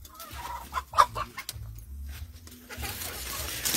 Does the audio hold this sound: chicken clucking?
yes